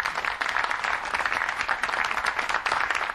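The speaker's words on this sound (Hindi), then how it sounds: "जोरदार तालियों से स्वागत करें" An audience at a Hindi poetry recital claps warmly to welcome a poet, a short burst of dense, lively applause from a sizeable crowd with no speech over it.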